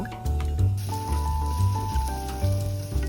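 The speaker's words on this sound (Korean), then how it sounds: "냄비에 애호박을 넣고 들기름을 넣어 볶아주세요." Zucchini sizzles and crackles in hot perilla oil as it's stirred in a pot, with clinks and scraping of a utensil against the pot.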